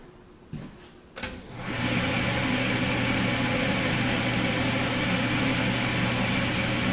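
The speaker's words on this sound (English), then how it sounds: "So I will turn on the exhaust fan before I flip the valve." An exhaust fan in a room with a steam sterilizer switches on after a couple of clicks, spinning up into a steady broadband whoosh with a low hum that continues evenly.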